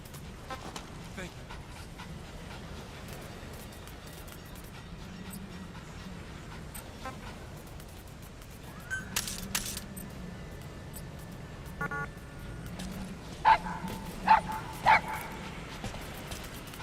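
Dog in Metal Gear Solid V: The Phantom Pain gives a few soft panting and whining sounds, then three clear barks near the end over a steady low game ambience with faint background noise.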